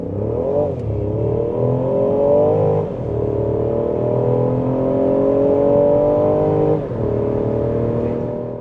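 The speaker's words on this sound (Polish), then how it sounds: "Mi osobiście też się bardzo podoba dźwięk silnika" A Ford Puma three-cylinder engine with a seven-speed automatic accelerates steadily and loudly, its drone rising in pitch through the gears with brief dips at each shift and no talk.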